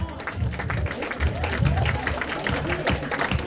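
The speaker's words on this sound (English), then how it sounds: "Give her a big round of applause!" Audience applause and cheering at a live mentalist show, a steady wash of clapping from a crowd with voices mixed in throughout.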